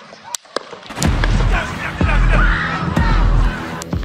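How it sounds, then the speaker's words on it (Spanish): Five gunshots fired at a Donald Trump rally, a series of sharp cracking bangs mixed with crowd commotion and shouting voices, loud and chaotic. "Esos fueron los 5 disparos que se lanzaron contra Donald Trump"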